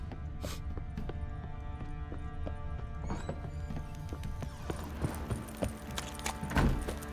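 A horse in The Witcher 3 trots along with a steady, close clip-clop of hooves over a low outdoor ambience, and a brief whinny-like sound near the end.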